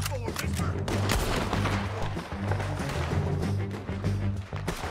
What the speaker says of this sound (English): Where are you shooting, Sadie?